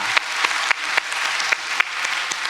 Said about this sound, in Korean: 우리 분들에게 격려의 박수 한번 부탁드립니다